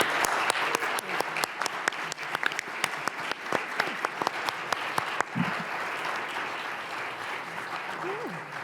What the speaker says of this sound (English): So I'd like to give a round of applause again for Fíonnadh, Nicola, Felix, Jack and John